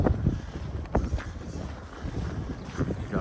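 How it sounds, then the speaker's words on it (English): Strong December wind on an outdoor walk by Wascana Lake in Regina, buffeting the microphone in rough, continuous gusts with scattered thumps close by. "give you some idea of how fast the wind is actually blowing"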